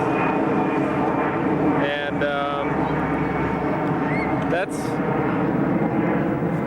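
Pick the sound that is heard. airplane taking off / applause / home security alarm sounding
airplane taking off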